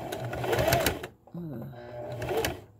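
A sewing machine backstitches while closing up a pillow, a short close burst of rapid mechanical stitching heard between a woman's brief remarks and a sigh.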